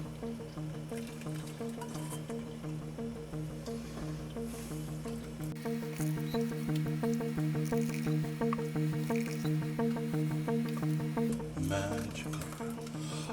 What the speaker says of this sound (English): I'm just going to use this cup and I'm just going to try pouring it through here.